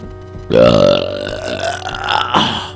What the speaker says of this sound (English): Ooh, I burped. That was a good one.